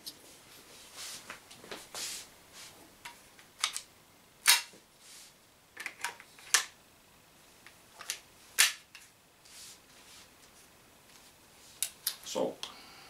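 Umarex Walther PPQ M2 air pistol fired into cardboard: a dozen or so sharp, snappy cracks at irregular intervals, close and loud, some in quick pairs, with quieter handling clicks between shots.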